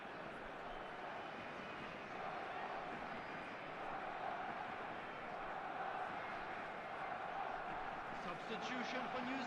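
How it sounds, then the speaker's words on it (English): A virtual stadium crowd in the eFootball football game roars in a steady, dense wash throughout a New Zealand match, with a commentator's voice speaking over it. "it certainly got the crowd going"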